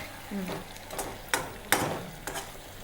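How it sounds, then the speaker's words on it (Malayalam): Pachadi curry with brinjal and bitter gourd stirred in a pan: a few scraping, clinking strokes of a spoon against the metal over a low background, with brief muffled voice-like sounds early on. "ഇത് നന്നായിട്ടൊന്ന് ഇളക്കി"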